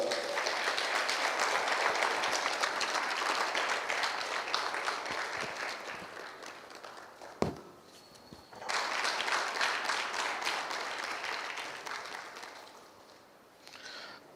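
Seminar audience in Hyderabad applauding at length, a dense sustained wash of clapping that briefly dips around the middle, swells again, then tapers off toward the end.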